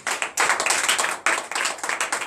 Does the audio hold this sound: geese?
no